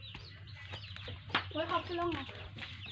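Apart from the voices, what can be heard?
chickens clucking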